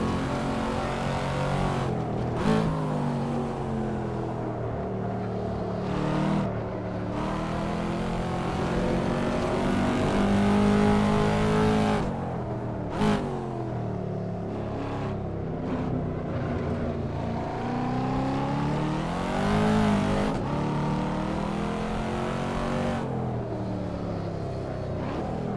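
Racing car engine in the Assetto Corsa driving simulator, a continuous loud roar that rises and falls with repeated gear shifts and revving over about 25 seconds, with no talking.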